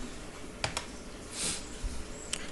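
Several sharp key presses on a computer keyboard while a command is typed into Windows Command Prompt, close and crisp over a faint background hiss, irregular and sparse.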